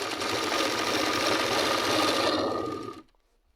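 A sewing machine runs a straight seam down a petticoat, a close, even whirring hum that stops abruptly near the end and leaves silence.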